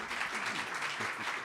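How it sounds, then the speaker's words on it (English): Applause for the panelists of an American Compassion podcast discussion on prescription drug policy, a steady, fairly quiet wash of clapping from a modest audience that holds level throughout. "So a big round of applause for all of our panelists."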